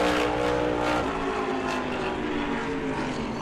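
A NASCAR Whelen Modified race car runs a qualifying lap at New Smyrna, its engine a loud, sustained roar that holds steady throughout without any voices.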